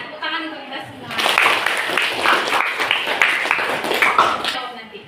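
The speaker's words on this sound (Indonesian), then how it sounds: "Tepuk tangan untuk kita semua." A group of participants in a classroom session bursts into applause, a dense, lively round of clapping that rises quickly after a brief lull and holds for several seconds.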